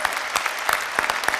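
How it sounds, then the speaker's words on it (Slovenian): An audience at a music festival event breaks into brief, lively applause, with sharp, uneven claps and a faint crowd murmur behind them, fairly loud and close. "te pa en aplavz še"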